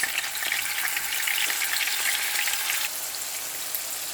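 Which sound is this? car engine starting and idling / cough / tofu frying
tofu frying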